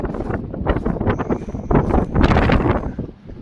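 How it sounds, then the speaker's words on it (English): Blizzard wind in the tundra at Cambridge Bay, November, buffets the microphone with continuous low rumbling gusts that swell and fade, with a faint whistling tone partway through. "it's a little bit windy."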